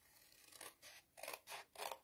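A pair of scissors cuts along cardboard tabs in about four short, papery snips spaced roughly evenly, close but soft.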